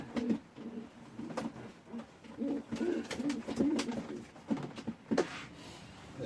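Pigeons in a loft cooing repeatedly in low, rolling phrases, several birds overlapping close by, with occasional clicks and handling noises.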